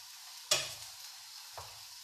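Peppers drop into hot oil with a sudden loud sizzle burst, followed by steady hissing frying and a second, smaller splash of sizzle about a second later.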